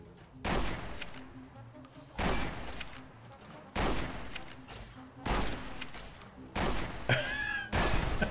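Gunfire in Fallout: New Vegas: about six loud, sharp shots spaced roughly a second apart, each with a booming tail, plus a brief metallic whine between the later shots.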